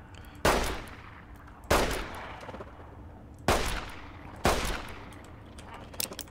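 Four separate gunshots from Fallout New Vegas, each a sharp loud crack with a decaying tail, spaced about a second or more apart, plus a faint click near the end.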